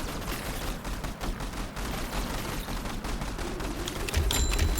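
Turrets in the Tower Defense Simulator game fire in a dense, steady barrage of overlapping gunshots, loud and continuous with no let-up, and heavier low thumps come in near the end.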